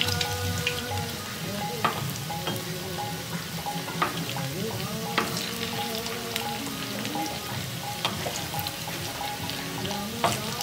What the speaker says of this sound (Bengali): মাঝারি থেকে অল্প আঁচে রেখে উল্টে পাল্টে ক্রিস্পি হওয়া পর্যন্ত ভেজে নিব